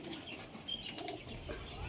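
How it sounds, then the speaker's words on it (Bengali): Two pigeons scuffle at close range, giving soft throaty coos and brief wing flutters in a quiet, short burst. "এই দুটো পায়রা শখ করাচ্ছি, মারামারি করছে।"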